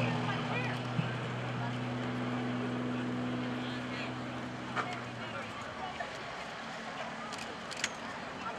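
An aerobatic airplane at the 2012 Blue Angels Homecoming Airshow drones steadily through a tail slide, then its engine power cuts out about halfway through, leaving faint, airy open-air background noise.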